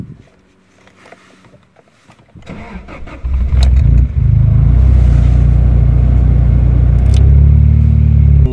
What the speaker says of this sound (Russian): Находимся мы сейчас за рулем автомобиля Isuzu Gemini комплектации Irmscher R.